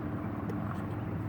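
An RC Airbus A320 model airplane makes a slow pass with gear and flaps down, its electric motor a faint, steady whir over wind noise outdoors.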